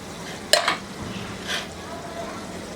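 Coconut, coriander and green chili paste fries in oil in a pan, giving a low steady sizzle with two or three sharp utensil scrapes and clinks near the start.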